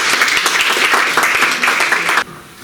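Brisk audience clapping at a school public speaking contest, dense and close, lasting about two seconds before stopping abruptly into quiet room tone.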